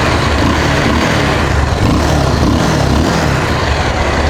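Bajaj Pulsar 220F motorcycle with 76,000 km on the engine, firing and held at a steady rev, its dense broadband drone running evenly and close throughout with no talk over it.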